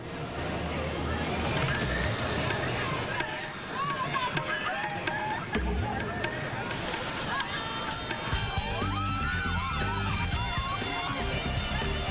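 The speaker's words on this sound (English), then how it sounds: "Hold on tight and prepare to be soaked, because this is Cali River Rapids, a whitewater rafting adventure." Water sloshes and splashes over a whitewater raft on the Kali River Rapids ride at Disney's Animal Kingdom, a continuous rushing roar from up close, with riders' voices and excited babble mixed in.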